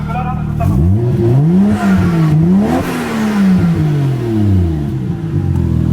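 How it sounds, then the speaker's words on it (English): A Nissan Hakosuka Skyline engine revs up and down in a long, loud, swooping sweep of rising and falling pitch, close by and sustained for several seconds. "We'll let Captain rev it up"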